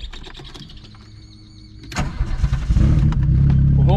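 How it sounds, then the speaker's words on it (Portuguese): A Volkswagen Parati with a straight-pipe exhaust cranks briefly and fires up, then settles into a loud, deep, throbbing idle rumble heard up close, with no talk. "Até tá um ronco legal, né, galera? Ó, vou ligar aqui pra vocês verem"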